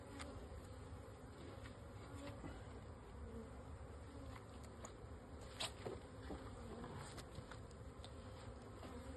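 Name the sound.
honey bees buzzing around a newly installed hive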